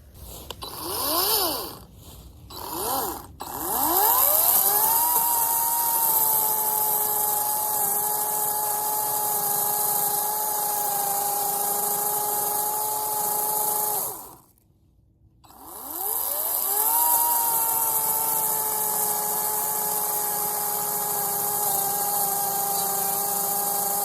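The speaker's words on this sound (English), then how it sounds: "so now we will start using the chainsaw" Loud, close chainsaw engine revs up and then drones steadily while cutting a white oak tree stump, drops out briefly, and then revs back up to a sustained whine.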